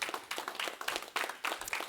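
A church congregation claps and applauds, a dense, steady patter of many hands that carries through the room at moderate volume without a break.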